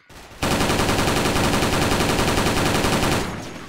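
Rapid automatic fire from a G36C rifle in the Special Force shooter video game, a dense, loud, continuous burst lasting about three seconds before tailing off.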